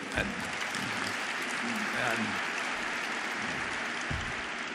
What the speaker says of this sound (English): And that applause is for you, not for me, and you deserve it.